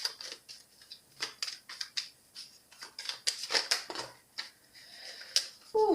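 Tarot cards are shuffled and drawn by hand in a quiet room, giving a close run of crisp, irregular flicks and slaps of card stock that bunch into quick clusters, with a brief higher-pitched tone near the end.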